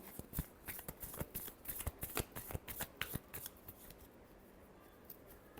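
Tarot cards being shuffled by hand, a quick run of crisp riffling snaps close up that tapers off into quiet near the end.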